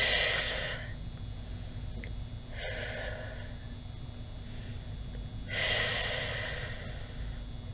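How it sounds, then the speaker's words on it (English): A person takes three slow, deep breaths during a guided meditation, each a long, loud rush of air close by, spaced a couple of seconds apart over a quiet background. "Take 3 deep breaths."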